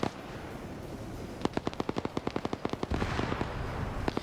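A Huey helicopter in a video game strafes a coastline with a steady burst of rapid automatic gunfire, evenly spaced sharp shots rattling over a dense background roar of engine and battle noise.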